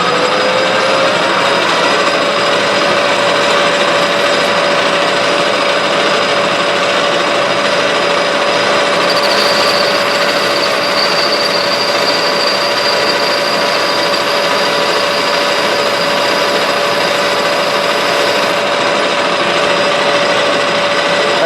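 A metal lathe turning a part down to 5 millimeters, a loud, steady mechanical drone with a constant whine that holds throughout and a faint higher cutting tone joining midway; no speech.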